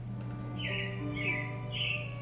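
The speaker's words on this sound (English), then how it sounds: "it looks like the Robins are getting ready to celebrate Valentine's Day today" Robins chirp as a show effect in the animatronic Carousel of Progress theater: three short, bright chirps spaced evenly and moderately faint over a steady low hum.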